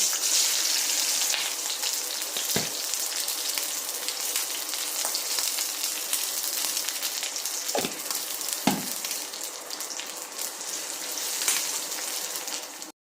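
Spices tempering in hot oil for Kerala milk tapioca (paal kappa) give a steady, dense sizzle and crackle throughout, with a few sharp pops standing out, close and alone with no talking.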